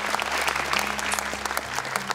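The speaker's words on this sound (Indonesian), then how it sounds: "Tepuk tangan dong buat Kak Edwin nih." A studio audience on the Hafiz Indonesia 2024 show applauds Kak Edwin with steady, dense clapping that stays loud throughout, over a low hum and a faint sustained tone, with no voices.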